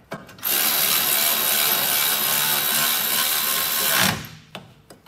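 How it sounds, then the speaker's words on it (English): A Milwaukee power tool snugging a rear brake bolt on a Ford Taurus, a close, loud sustained buzzing whir of about four seconds that stops abruptly, followed by a few faint clicks. "let's see if we can use the Milwaukee to tighten it back up on here"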